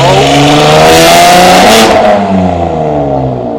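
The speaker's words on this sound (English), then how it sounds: "People parading and revving." Powerful supercar engines rev loudly and close by on a London street, pitch rising and falling as they roar past, with no talking.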